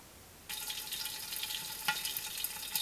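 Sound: rouladen searing (frying) in a pan

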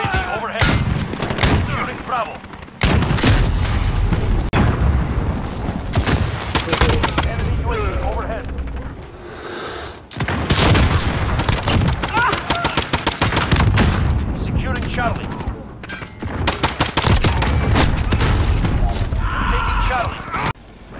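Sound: video game gunfire from a platinum Desert Eagle pistol

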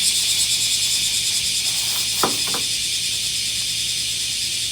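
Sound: crickets and cicadas chirping

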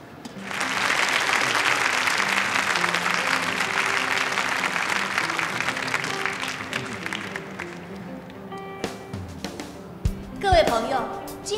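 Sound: audience applause at a competition

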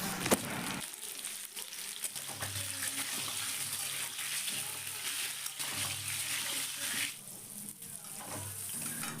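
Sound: pointed gourd (potol) frying in oil in a wok

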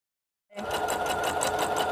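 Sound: sewing machine stitching a fabric bag

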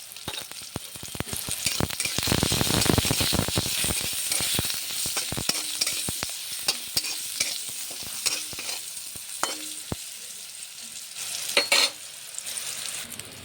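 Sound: eggplant frying in oil

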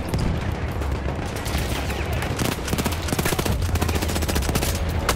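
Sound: gunfire in the video game Battlefield 1

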